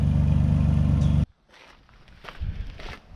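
A Dodge Dakota project truck engine idles loud and close with a steady, rough low drone, then cuts off abruptly, leaving quiet footsteps and shuffling.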